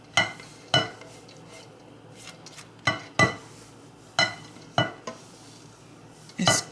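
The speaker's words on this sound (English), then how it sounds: "I'm gonna go ahead and add my cauliflower to that. And we're gonna mix that up." Cauliflower being stirred into a pizza crust mixture in a bowl, a soft scraping churn broken by roughly nine sharp knocks and clinks of a utensil against the bowl at irregular intervals, close by with no voices.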